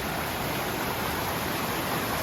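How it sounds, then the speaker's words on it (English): Vallecito Creek rushes continuously, a dense, even roar of flowing water with no pauses, fairly loud and close. "look at that water flow"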